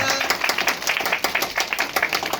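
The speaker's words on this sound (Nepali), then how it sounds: "अब ताली बजाइदिनुहोस् उहाँको इच्छाले" A small group claps in quick, steady bursts for a couple of seconds at a Christian wedding ceremony, the hand claps sharp and close.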